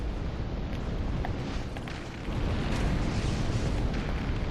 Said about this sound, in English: Oh, these freaking exploding barrel guys.